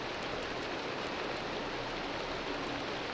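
Rain falling in a Minecraft custom story map. It is a dense, constant broadband hiss at an even level throughout, with no voices.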